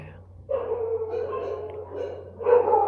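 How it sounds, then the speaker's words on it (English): Several dogs bark in bursts during a TEDx Maitighar gathering, a short lull giving way to louder barking near the end, heard over background chatter. "why are the dogs barking so much?"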